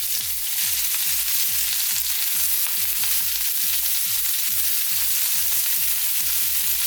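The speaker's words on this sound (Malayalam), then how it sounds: "അതിൽ 1 ടീസ്പൂൺ എണ്ണ ഒഴിച്ചിട്ട് അതിലേക്ക് ജീരകം, കുരുമുളക്, പച്ചമുളക് ലോ ഫ്ലെയിമിൽ ഇട്ട് റോസ്റ്റ് ചെയ്താൽ മതി" Cumin seeds, black pepper and green chili roasting in a spoonful of oil over a low flame, giving a steady close sizzle with a regular rhythm of small stirring taps running throughout, with no voices.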